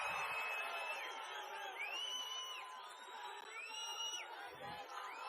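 A large outdoor crowd at a Chandrababu Naidu political rally in Venkatagiri, Chittoor District, cheers and whoops in a sustained roar, with rising shouts and whistles swelling over the din.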